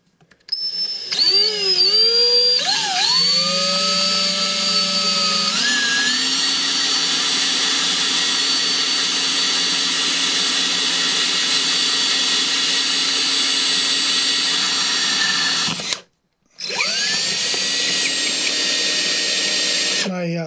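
A power drill whirs continuously into hard plaster of Paris scenery, its pitch rising as it spins up and bites in, then cutting out briefly before starting again.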